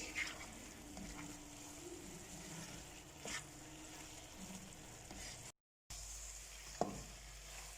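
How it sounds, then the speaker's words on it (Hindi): Grated carrot halwa roasts in ghee in a pan: a steady, close sizzle runs throughout, with occasional scraping strokes of a spoon stirring the mixture and one sharper clack near the end. "हलवे को भूनना मैंने स्टार्ट कर दिया है"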